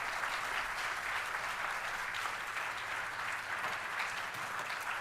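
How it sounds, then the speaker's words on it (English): Steady audience applause greeting a speaker at a talk, sustained, even clapping from a crowd at moderate, somewhat distant level with no voices on top. "It's lovely to get a round of applause before you said anything."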